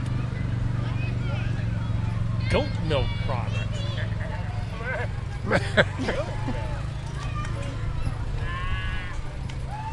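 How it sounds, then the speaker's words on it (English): Horses clip-clop past at a small-town parade in Webster, Iowa, their hoofbeats scattered and moderately close amid steady crowd chatter and a person talking nearby. "Got the horses going by."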